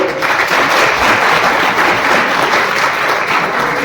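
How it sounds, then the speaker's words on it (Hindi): A workshop audience on children's rights and safety claps loudly and continuously, a thick wash of many hands close by that holds steady for several seconds with little speech. "सरकार इनके लिए ताली बजाएगी"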